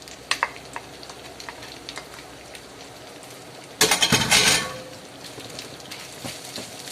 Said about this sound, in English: So what I'll do is add the bacon and chorizo in